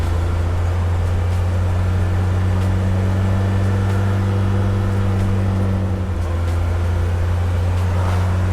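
A restored Mercedes 240GD cruising on a paved road, a loud steady low engine drone with a constant hum inside the cabin, unchanging throughout.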